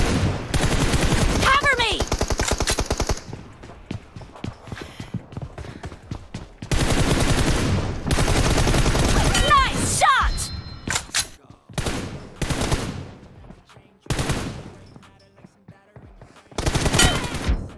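Gunfire in a TDM shooter video game: long bursts of rapid automatic fire and scattered single shots, loud and close, separated by quieter gaps, with people talking over it.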